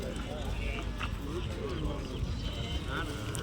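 Horses walk through a busy Saturday-morning sheep market, hooves clopping faintly under a continuous murmur of crowd talk and voices.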